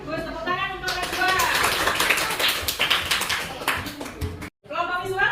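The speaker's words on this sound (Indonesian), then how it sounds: "Tepuk tangan untuk kelas 2." Schoolchildren in a class clap together for classmates, a dense burst of hand claps lasting several seconds in a classroom, with a teacher's voice just before and after.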